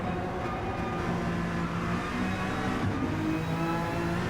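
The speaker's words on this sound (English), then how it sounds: "Just hearing those tyres as they go through Redwood" Touring car engine and tyres in a WTCR racing video game, heard through the Redwood corner: a steady, loud engine drone with tonal whine, continuous throughout, no voices.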